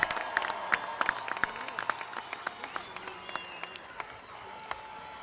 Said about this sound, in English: a big round of applause for the graduates of the School of Liberal Arts